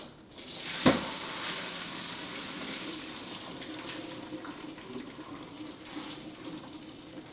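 Water from a pot of cooked pasta pouring out to drain, opening with a sharp metallic clunk and then a steady rushing, splashing stream that slowly thins over several seconds, with no talking.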